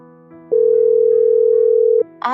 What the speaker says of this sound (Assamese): মই এতিয়া সমীক্ষালৈ ফোন কৰোঁ